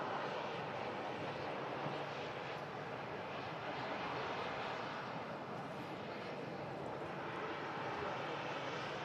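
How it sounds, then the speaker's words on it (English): A Ryanair airliner on an airport runway gives a faint, steady engine rumble and roar heard from a distance, even and unbroken throughout. "There is a Ryanair on the runway at the moment."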